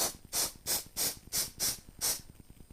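A can of mold release gives seven short, evenly spaced hissing spray bursts onto a mold for a one-piece silicone casting. The spray is close and crisp, with faint ticks underneath.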